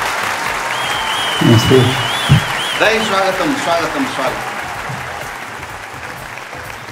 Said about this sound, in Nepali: स्वागत गरौँ मदन कृष्ण श्रेष्ठ र हरिवंश आचार्यलाई जोरदार तालीको साथमा